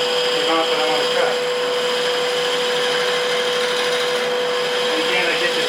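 A scraper cuts a segmented wooden box spinning on a wood lathe, giving a steady high whine and rasping hiss with a constant motor tone beneath, close and continuous, with someone talking over it.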